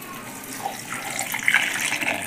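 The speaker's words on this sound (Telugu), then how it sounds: "వాటర్ పోసేస్తున్నాను దీంట్లో" Water trickles and splashes as it is poured into a paan sharbat mixture, a light running-liquid sound that grows louder toward the end, close up with no talking.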